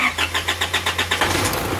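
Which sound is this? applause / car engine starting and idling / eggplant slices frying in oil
car engine starting and idling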